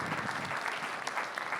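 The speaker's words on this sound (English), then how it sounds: "Let's give him a big round of applause." Audience applause at a presentation on bitcoin, cryptocurrency and income inequality, a steady, dense wash of clapping from a crowd filling the whole moment without talk.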